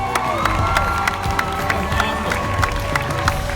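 Crowd of volunteers at a 2016 FRAS philanthropy meal-packing event cheering and shouting loudly, a sustained roar with scattered whoops and sharp claps and thumps punctuating it throughout.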